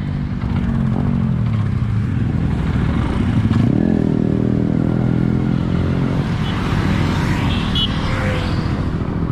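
A motorcycle tearing past at speed on a road during an Independence Day ride, its engine roar loud and continuous with a rising swell around the middle, mixed with rattling clatter and road noise.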